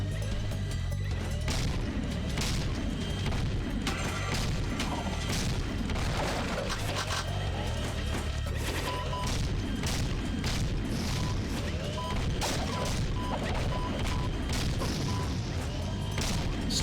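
Explosions in the video game Jak 3: dense, continuous booms, crashes and gunfire-like bursts with mechanical clatter layered over them, loud and unbroken for the whole stretch.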